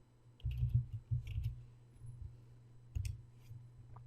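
A computer mouse gives a few soft, close clicks in quick small clusters against a quiet room hum, with no talk.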